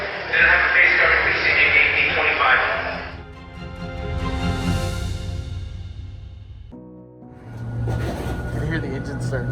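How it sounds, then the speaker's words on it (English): A GE90 jet engine on a Boeing 777 starts just outside the cabin, heard from inside as a broad rushing roar that gives way to a rising, swelling whine, with cabin noise and voices around it. "The engine starts. That's what that sound is."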